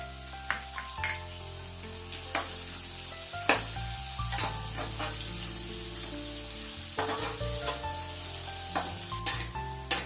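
Onions sizzle and fry in a pan with salt added, stirred with repeated sharp scraping clicks of a utensil over a steady close hiss, with no voices.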